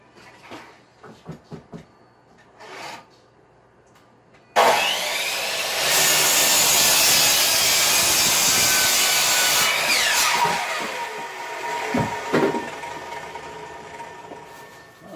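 A saw cuts through a wooden board during a ham radio desk build, starting abruptly after a few quiet knocks and running as a loud, steady, raspy stroke for about ten seconds before tapering off with scattered bumps.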